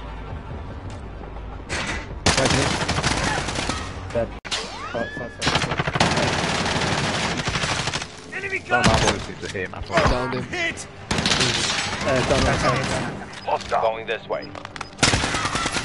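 Gunfire bursts and single shots in a Call of Duty Warzone Rebirth quads match, repeated loud volleys and impacts through most of the stretch, with players talking over the fighting.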